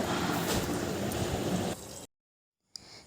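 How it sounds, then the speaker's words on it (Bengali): Malpua, a palm pitha, fries in hot oil as a dense bubbling sizzle that cuts off sharply into silence, then a brief clatter and a fainter sizzle returns. "এভাবে করে সবগুলো মালপোয়া ভেজে নেব"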